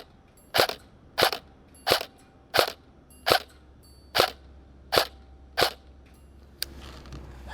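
An EMG Colt M16A3 airsoft rifle fires eight single shots at a cardboard target, sharp cracks spaced at a steady, slightly uneven rhythm, loud and close, with quiet outdoor background noise and no talking.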